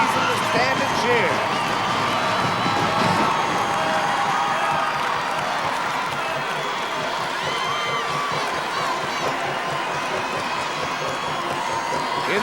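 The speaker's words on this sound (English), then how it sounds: "now the Mendon side has a reason to stand and cheer" A high school football crowd at a 1991 Class DD state final, Mendon against Lake Linden-Hubbell, roars and cheers in a dense, sustained wash from the stands, with voices talking over it throughout.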